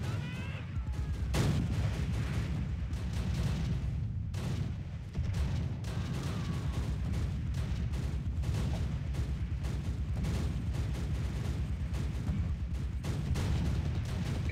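Bombardment in Close Combat during a fight for Pegasus Bridge, with a continuous rumble of explosions and scattered gunfire, heavy low booms rolling under crackling shots for the whole stretch.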